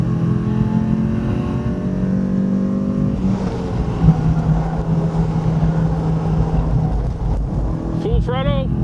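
A race car engine roars at full throttle on the Phillip Island track, heard from inside the car as a loud, steady drone that shifts pitch partway through, with a voice talking over it.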